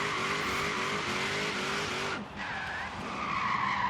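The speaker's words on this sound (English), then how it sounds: "This thing drifts very nicely" Chevy SS drift build in Forza Horizon 3, tires screeching continuously through a sustained drift over a steady engine drone, loud and close, with a brief dip before the skid resumes.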